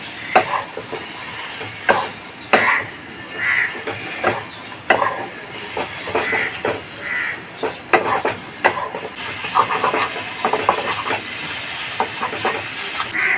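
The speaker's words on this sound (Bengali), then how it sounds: "ডিমটা দেবার পর আমি খুব ভালো করে ডিমটার সাথে মশলাটাকে কষিয়ে নিচ্ছি" Duck eggs cooked with spice masala in a pan for korma are stirred vigorously, with loud repeated scraping and stirring strokes over a constant sizzling hiss, close up and without speech.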